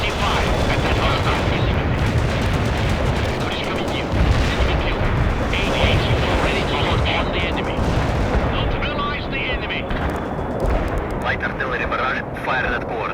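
Dense gunfire and artillery blasts from the World in Conflict video game, with tank missile strikes, roll on without a break. Radio-style voice lines from the game sound over the constant loud battle.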